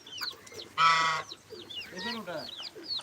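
Farmyard chickens, hens and a rooster, cluck in a short burst close by, with one loud harsh squawk in the middle and softer calls around it, among other poultry such as ducks and turkeys.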